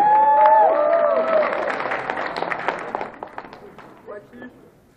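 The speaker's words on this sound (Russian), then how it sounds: "Поддержим их аплодисментами." A crowd applauds and cheers loudly at a 3x3 competition final, the clapping gradually thinning and fading into scattered claps, with a voice speaking over the start.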